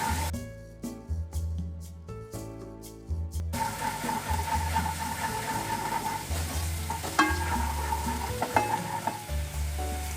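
Ginger garlic paste fries in hot oil in a pan, giving a steady crackling sizzle with scraping stirs of a spoon, preceded by a few rhythmic knocks; fairly close, with no voice.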